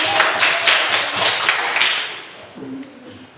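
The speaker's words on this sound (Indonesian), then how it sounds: "Tepuk tangan." A short burst of clapping from a classroom of children, a few seconds of quick hand claps that fade out toward the end.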